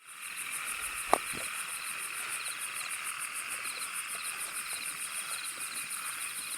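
Frogs and insects call steadily through the night over a rice field, a dense continuous chorus of pulsing trills with one brief sharp knock-like sound early on.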